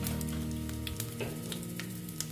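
Black cumin seeds sizzle in hot oil in a pan readied for frying pabda fish, a close, steady crackling hiss with small pops and no speech.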